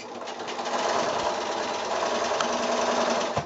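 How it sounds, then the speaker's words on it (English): Sewing machine running steadily as it stitches quilt squares with a quarter-inch seam, a continuous close, even mechanical whir for a few seconds without pause. "So I'll just quickly run these ones through the machine"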